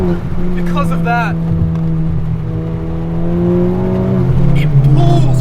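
Hard acceleration from a modified 2021 Honda Civic Type R in third gear, engine tone climbing steadily and loud inside the cabin, with a brief shift-like change near the end and a voice talking over parts of it.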